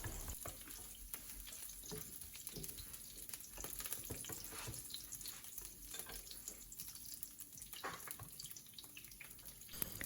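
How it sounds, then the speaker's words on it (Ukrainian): Shrimp frying in a pan with a steady, close crackling sizzle that runs unbroken throughout, with scattered pops and no voices. "Креветки підсмажилися, підрум'янилися апетитно"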